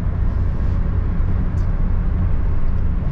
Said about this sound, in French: Là on peut voir qu'à 90 la mécanique est assez bruyante.